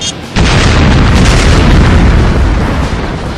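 A grenade blast in a French animated action series hits as a sudden, very loud boom, followed by a thick rumbling roar that fills the rest of the moment.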